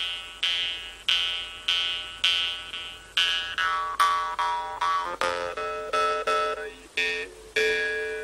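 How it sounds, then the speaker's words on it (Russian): A khomus, the Yakut jaw harp, plays a steady twanging rhythm of repeated plucked notes with a bright, ringing overtone melody. It is fairly quiet and sits alone in a calm scene. "Это хомус моего брата Сергея."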